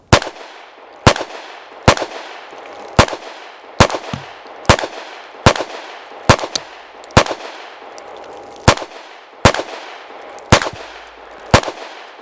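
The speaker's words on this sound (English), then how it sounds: "Let's zero in down there and you can actually see the impacts while we shoot." Loud, sharp pistol shots ring out from a Sig P365 fitted with an Aim Surplus JTT barrel, about fifteen reports fired at a steady, unhurried pace, each one cracking with a short echo tail.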